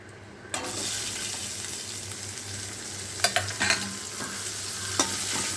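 Finely chopped large onion dropped into hot oil with fried curry leaves for gongura sambar, a steady close sizzle with a sharp burst at the start and occasional clinks and stirring scrapes.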